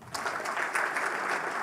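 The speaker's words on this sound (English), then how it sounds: "Clap for yourselves." Steady applause from an audience at the Kenya Revenue Authority's 30th anniversary celebration, a dense wash of clapping held at an even level throughout with a faint voice mixed in.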